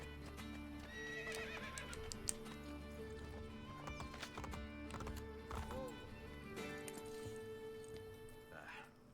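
A horse in Assassin's Creed Brotherhood on PS4 clip-clops at a gallop and neighs loudly, with game sounds and someone talking over it throughout.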